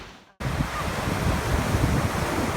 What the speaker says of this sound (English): I hope you can hear me through all these beautiful ocean sounds.